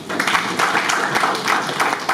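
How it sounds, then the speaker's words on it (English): Audience at a cooperatives symposium in Lira clapping together for a minister, a steady dense patter of hands lasting about two seconds with no pause. "Can we clap for that?"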